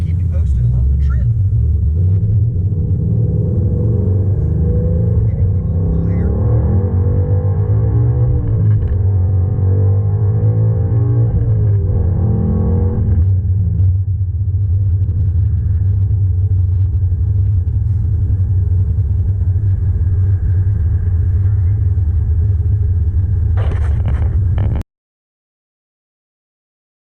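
A 1993 Chevy G20 van with a 350 engine and turbo 400 transmission drives on the road, its low cabin rumble loud and unbroken for about 25 seconds before cutting off, with faint voices at times underneath.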